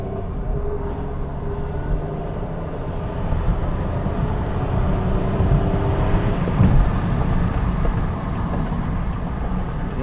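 A car with a faulty EGR valve and reported loss of power accelerates hard from a standstill toward 60 mph, a steady broadband engine and road roar that swells slightly midway and continues for the whole stretch, no voices.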